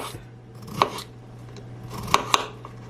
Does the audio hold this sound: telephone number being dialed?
no